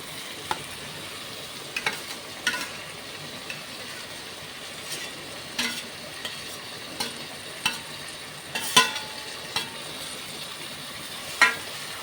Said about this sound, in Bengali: ভালো করে ঘেটে ঘেটে দেবো